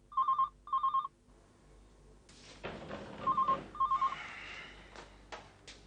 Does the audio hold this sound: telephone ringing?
yes